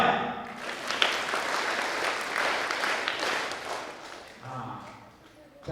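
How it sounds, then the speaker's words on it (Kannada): Loud applause from a classroom audience fills the space, a dense crackle of many hands that swells, holds steady for several seconds, then tapers off. "ಗ್ರೇಟ್, ಜೋರ್ ಚಪ್ಪಾಳೆ"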